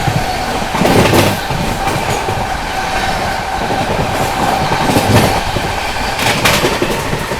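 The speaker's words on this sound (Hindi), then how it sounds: "क्या मारा है ओवरटेक पंजाब मेल ने।" Punjab Mail express train passing at high speed, a loud, continuous rushing rumble with rhythmic clickety-clack of wheels over rail joints, close and steady throughout.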